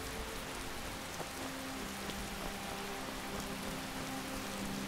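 Steady rain falls in Skyrim, a broad, even hiss of drops on surfaces that continues unbroken from start to finish with no voices over it.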